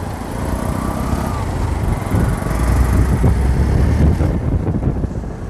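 Hero Xpulse 200 BS6 motorcycle cruising on a highway, a continuous engine rumble buried in heavy wind buffeting on the microphone.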